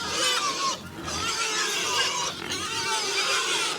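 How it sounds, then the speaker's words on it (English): Iberian pigs on a muddy farm pasture grunting and squealing continuously, a dense chorus of close, loud animal calls with brief dips, no talk. "It was now time to move the pigs to the next area."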